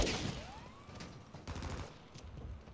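Gunshots in Call of Duty: Modern Warfare II crack in a quick volley, with a few more shots and a faint whizzing sweep, fairly quiet and distant, with no talk.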